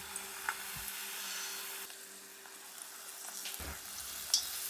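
Flattened kanji vada batter deep-frying in oil over medium-low heat, a steady soft sizzle with a couple of brief bubbling bursts, close and fairly quiet.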